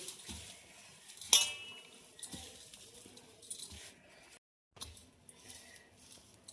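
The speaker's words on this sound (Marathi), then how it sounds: "आता हे सर्व जिन्नस व्यवस्थित आपल्याला मिक्स करून घ्यायचे." Ingredients for chard thalipeeth being mixed in a bowl, giving scattered clinks and scrapes of a utensil against the dish with soft squishy rubbing between, close and fairly quiet, no talking.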